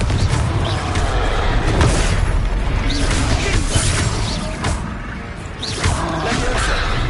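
Confringo fire spell cast in the video game Hogwarts Legacy, dense explosive booms and crackling whooshes layered over continuous loud battle noise and music, with shouted voices mixed in.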